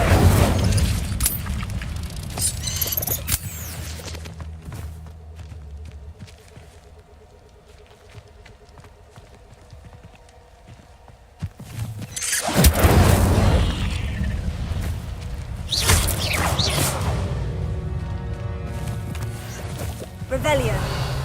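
Fire spell bursts from a Harry Potter video game, loud whooshing blasts with crackling flames, several separate bursts around a quieter stretch, with a player's voice heard over them.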